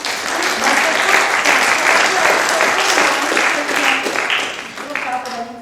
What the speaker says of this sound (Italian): che salutiamo con un grandissimo applauso